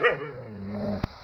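A husky dog gives a single sharp bark near the end, preceded by a low rumbling growl and whining tones, close and fairly loud with no talking.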